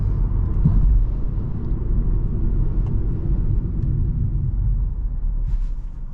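A 2022 Hyundai Accent with a 1.6 engine accelerating on the road, a steady low engine rumble with road noise heard from inside the cabin, no talking.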